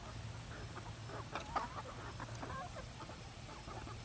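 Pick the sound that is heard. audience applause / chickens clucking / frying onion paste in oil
chickens clucking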